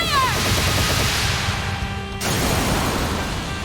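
Sustained automatic gunfire in the video game Trails of Cold Steel, a dense, loud continuous burst that cuts off abruptly and then resumes with a rumbling barrage.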